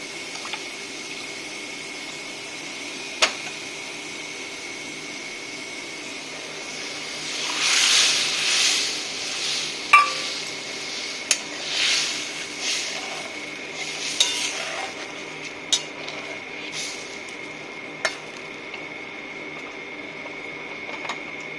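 Water is poured into a cooking pot holding a tamarind-water mixture for a fish dish and starts heating toward a boil, with a soft steady hiss broken by a few seconds of louder splashing and bubbling and occasional sharp clicks.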